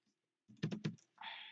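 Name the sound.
computer keyboard typing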